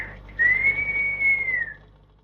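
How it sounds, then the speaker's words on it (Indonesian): A single clear, sustained whistled note from a person holds steady for over a second, rising slightly then gently falling away, close and alone against a quiet room. "Apa yang kamu siuli"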